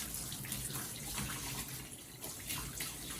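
Water from a shower hose runs in a steady, faint hiss while a dog is bathed at home.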